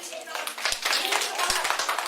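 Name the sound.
children clapping hands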